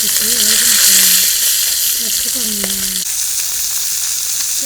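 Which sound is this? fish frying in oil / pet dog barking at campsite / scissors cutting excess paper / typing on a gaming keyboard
fish frying in oil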